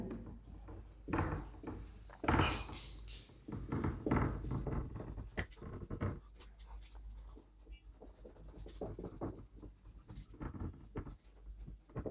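Chalk or marker writing out a definition on a board in a Class 12 physics lesson, uneven bursts of scraping and tapping strokes, loud at first then fainter, with some speech mixed in.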